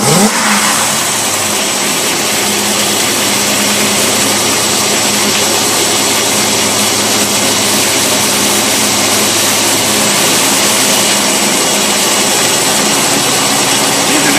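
A boat engine fitted with a Rochester two-barrel carburetor runs at a steady, loud, close roar, with no audible speech.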